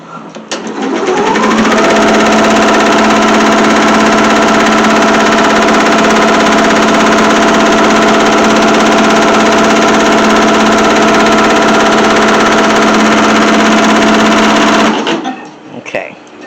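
A sewing machine runs in one steady, continuous whir for about thirteen seconds, stitching fabric for a handmade teddy bear. It starts and stops cleanly and sounds close and loud, with no talking over it.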